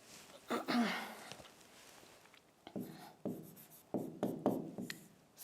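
Chalk or a marker scratches and scrapes across a classroom board as examples are written out in short strokes and bursts, fairly faint and close, with no talk.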